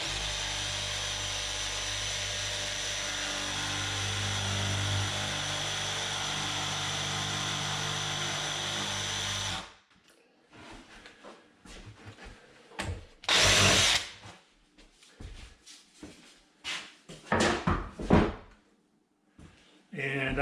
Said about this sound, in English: So I've got my jigsaw set up here